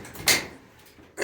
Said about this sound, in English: So what you want to do is close this door.